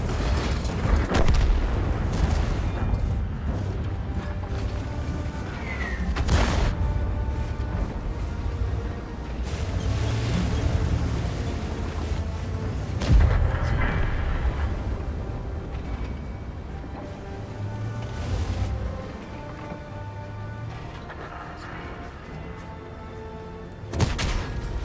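Heavy booming IS-4 heavy tank cannon shots in a video game fire at irregular intervals over a steady low engine rumble, loud and close, with no talking.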